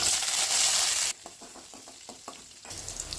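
Mustard seeds, urad dal, shallots and curry leaves sizzle in hot oil, a loud hiss that cuts off midway into a quieter stretch with a few scattered pops and stirring taps before the sizzle returns.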